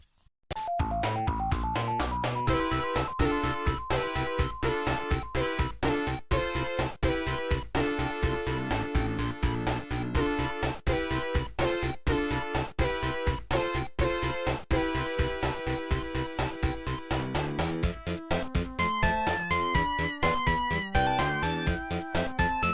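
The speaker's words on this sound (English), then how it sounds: "sometimes, the music in Sonic sounds like this." Fast, busy Sonic the Hedgehog game music with driving rhythmic pulses and bright melodic lines, continuous and loud throughout.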